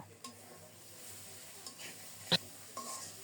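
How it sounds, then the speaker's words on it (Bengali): Spice paste being stirred and fried in a pan with a little water added, a soft steady sizzle with light scraping stirs and one sharp utensil clink, fairly quiet and close. "দাঁড়িয়ে থেকে নেড়ে চেড়ে মশলাটাকে খুব সুন্দর মতো কষিয়ে নেব"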